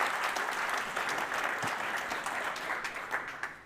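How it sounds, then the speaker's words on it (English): Audience applause at a Devcon VI conference stage in Bogotá welcoming two speakers, a dense steady clapping from a crowd that runs throughout and fades slightly toward the end. "Give them applause, people."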